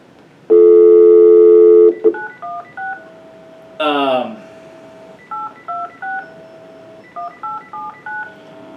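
Phone keypad DTMF tones from a telephone being dialed: a long steady tone, then a brief sweeping sound, followed by runs of short, loud beeps in quick groups.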